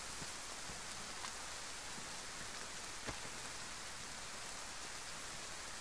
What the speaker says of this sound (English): And it starts to rain.